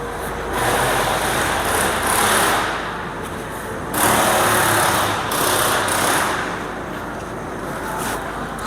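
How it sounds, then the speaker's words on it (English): A Ford Focus engine runs steadily at idle, a continuous broadband mechanical hum with a slight high-pitched whine, rising and falling gently in loudness over several seconds with no talk. "Cut the engine out"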